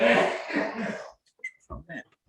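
A single harsh, breathy cough burst up close, followed by a few short throat-clearing grunts after a brief pause.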